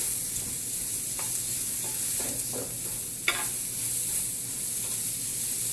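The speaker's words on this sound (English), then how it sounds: "give that a stir" Rice stirred in a pan as spices toast for Mexican rice, a faint steady sizzle with soft scraping strokes and one sharper clink of the utensil against the pan.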